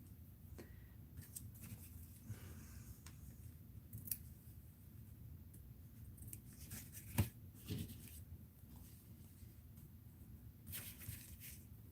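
Scissors snip through craft material for bug legs, a quiet indoor scene of scattered close clicks and rustles, with one sharper cut standing out near the middle.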